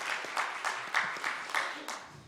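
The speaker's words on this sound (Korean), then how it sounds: "우리의 믿음이 되시는 예수 그리스도께 영광의 박수 올리겠습니다" A church congregation at a Sunday morning service claps together in time, the sharp, evenly spaced beats repeating about every third of a second with a roomy reverberant tail.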